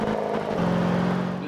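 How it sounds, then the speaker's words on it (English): A Hummer H1 Alpha's engine in Forza Horizon is pushed to the limit in each gear, giving a loud, continuous, buzzing drone with a brief dip in pitch as it shifts, steady and close with no talk over it. "just over-revving each fucking gear."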